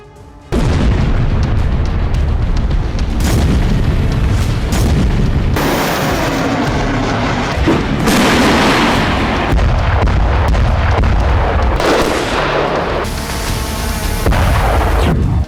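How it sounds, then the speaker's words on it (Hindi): A continuous barrage of heavy booms and blasts in Russian border towns, loud and dense, with repeated explosive bursts rumbling one after another throughout. "रूस के सीमाई शहरों में लगातार विस्फोट"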